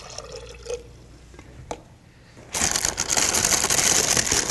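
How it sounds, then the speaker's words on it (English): About a cup of water poured into a blender jar: a few light clinks and drips at first, then a loud steady splashing pour close by. "So I'm going to put about a cup of water"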